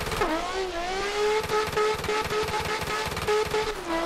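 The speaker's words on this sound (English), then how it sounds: "You can tell we're redlining in fourth and the car is starting to skate more" A BMW E36 race car engine screams at redline on track, a sustained high rasping drone with repeated upshift dips and surges, loud and close from onboard over roaring wind and road noise.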